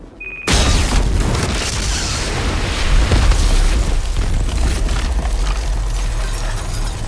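Continuous booming explosions from a Call of Duty style modern warfare game, loud and sustained with heavy low rumble and a sharp blast near three seconds, no talk over them.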